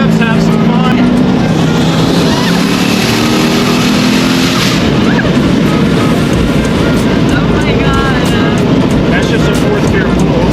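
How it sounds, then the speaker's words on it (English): A 1000-plus horsepower twin-turbo C6 Corvette accelerates hard in fourth gear, a loud, sustained engine roar heard from inside the car, rising in pitch before shifting into dense, rushing noise, with voices over it. "That's just a fourth gear pull"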